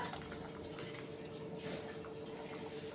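Dal curry bubbling steadily in a pot, a continuous soft simmering hiss with faint pops and gurgles, close and fairly quiet, with no talking.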